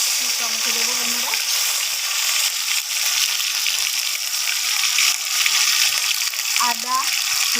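Tomatoes hit hot oil in a wok and sizzle loudly and steadily with some spatter, while someone talks briefly at the start and again near the end.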